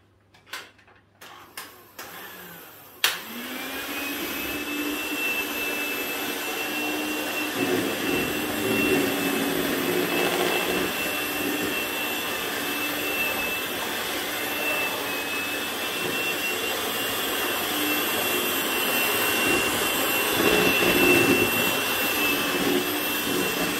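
An electric mixer beats cake batter with flour in a kitchen, a steady close whine that starts after a few knocks and runs continuously with a faint sustained tone.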